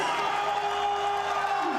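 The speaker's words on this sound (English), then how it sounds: "And the crowd in rapture." Cricket crowd at a Pakistan vs Sri Lanka one-day international cheering for Salman Ali Agha's innings, a steady loud roar of massed voices filling the stadium without a break.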